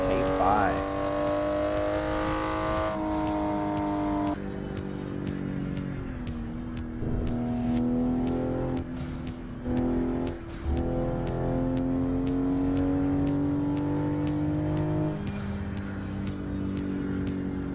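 Toyota Supra MK5 engine in a driving simulator game, a loud continuous drone that steps up through gear changes with revving and brief dips, playing alone throughout.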